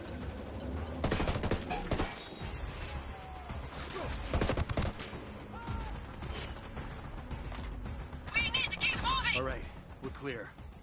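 Rapid bursts of automatic gunfire and single shots in a multiplayer shooter game, loud and sustained across the whole stretch, mixed with clanking mechanical effects and radio-style voices talking throughout.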